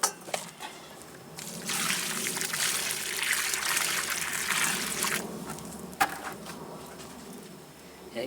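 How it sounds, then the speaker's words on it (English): Water pours steadily into soil around a newly planted avocado tree, a close hissing trickle lasting a few seconds before tapering off, with faint outdoor sounds around it. "Then I'm going to add some water there."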